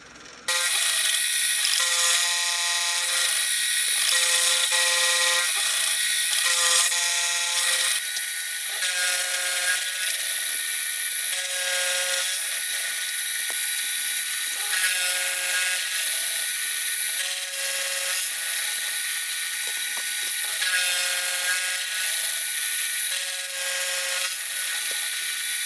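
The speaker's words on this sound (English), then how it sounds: "I'll use the face mill to machine in that angle" A face mill with fresh inserts takes very light cuts across a metal block for a jack plane, producing a steady, loud, continuous high-pitched whine with rhythmic pulsing tones, alone without talk.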